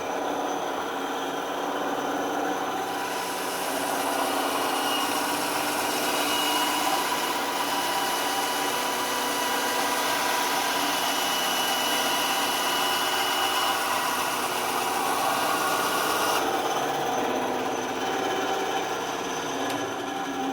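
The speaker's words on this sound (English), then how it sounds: "I'm going to flip on my bandsaw. And I'm just going to cut off the back here." A bandsaw slices through the back of a hoof boot heel counter, a continuous broadband whine and hiss that swells as the blade bites and holds steady for most of the clip before easing off.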